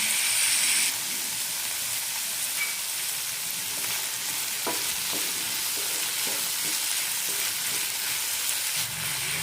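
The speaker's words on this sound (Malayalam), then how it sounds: "നന്നായി വഴറ്റാം. തക്കാളി നന്നായി വെന്ത് കിട്ടണം." Tomatoes sauté in oil for mustard tomato chutney, giving a steady close hiss of sizzling with occasional soft stirring scrapes, continuous and even throughout.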